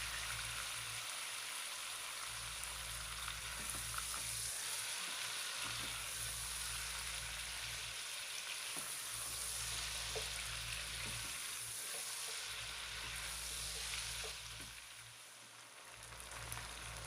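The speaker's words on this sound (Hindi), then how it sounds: "तकरीबन 6 से 8 मिनट तक हमने चिकन को अच्छी तरह से प्याज के साथ फ्राई कर लिया है" Chicken fries with onions in a pot, a dense and even sizzling hiss that runs for a long stretch with a low steady rumble beneath and occasional faint stirring taps, no voices.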